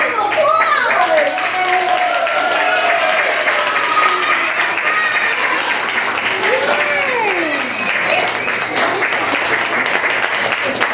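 Audience at a children's theatre show applauding the young actors on stage, steady loud clapping throughout with children's voices and whoops rising over it.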